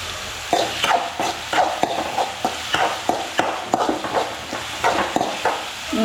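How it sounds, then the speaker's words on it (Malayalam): Onions are sautéed with powdered salt in a pan for a soybean curry, giving a soft sizzle under repeated scraping strokes of a spoon in a steady rhythm. "ഇതൊന്ന് വഴണ്ട് വരാനായിട്ട് ഇച്ചിരി ഉപ്പ് ഇട്ട് കൊടുക്കാം, പൊടി ഉപ്പ്"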